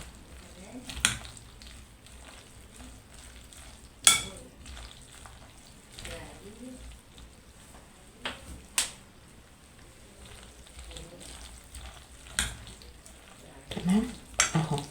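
Eggs being stirred into pasta in a frying pan, with faint sizzling under soft scraping and occasional sharp clinks of a utensil against the pan, close and fairly quiet.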